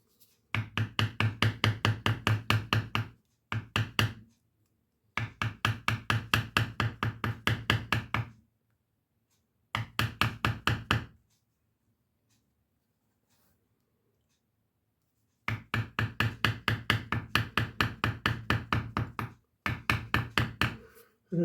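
A mallet taps a leather-tooling stamp about a sixteenth of an inch into leather while working a spider-and-web design. Rapid, evenly spaced strikes come in several bursts of a few seconds each, separated by short silences, close and clear.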